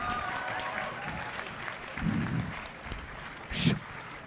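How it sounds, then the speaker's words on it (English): Audience applause at a comedy show at MCM London Comic Con, a moderate crowd clapping in short bursts that swell twice, with some voices mixed in. "Give the boy a clap!"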